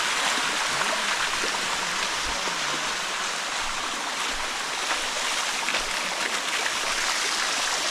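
A steady, dense roar of falling water fills the scene, constant and loud without pauses, like the Sticky Waterfall north of Chiang Mai, Thailand, heard from nearby.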